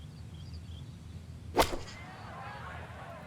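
A golf club strikes the ball in the EA Sports PGA Tour video game at Augusta, one sharp crisp impact partway through, followed by a brief whoosh that fades over a low steady background.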